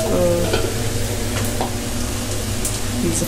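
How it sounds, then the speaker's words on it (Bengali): Dried fish (shutki) frying in a pan crackles and sizzles steadily up close, with intermittent scraping as it is stirred, and no talking. "ভাজা হয়ে গেছে আমার শুটকিটা"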